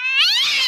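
An angry cat screech for a radio show's cash kitty, a single rising and falling yowl with a strained, tonal wail that carries clearly without any voices.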